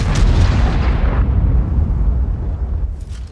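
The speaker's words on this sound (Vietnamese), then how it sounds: "Pháo tự hành vừa ném ở vị trí A4A5." A loud, deep boom from self-propelled artillery firing in World of Tanks, with a long rumbling decay that fills the clip and no talk.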